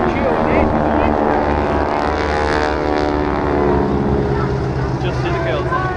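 A 450 horsepower aircraft engine drones loud and steady at an airshow, a continuous rough propeller roar that fills the whole stretch without pause, with crowd and announcer sounds blended underneath.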